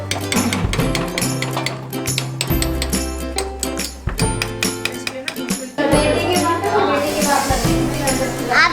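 A metal lid clanks down onto a cooking pot in a home kitchen, sharp clinks and knocks of cookware ringing out near and loud while people talk over them.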